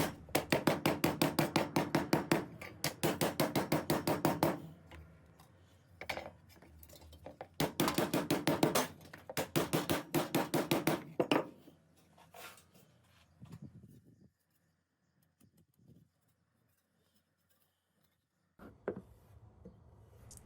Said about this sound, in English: you want a rawhide hammer. So what I'm doing with this is I'm hammering down but not hitting the shaft.